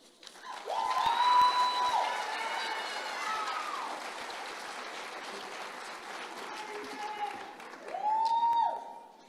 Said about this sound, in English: Let's give all of our CYCA award winners one more big round of applause.